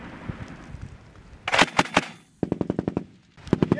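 Several M240B machine guns firing on a range, with loud close bursts of rapid shots in quick rattling strings separated by short pauses.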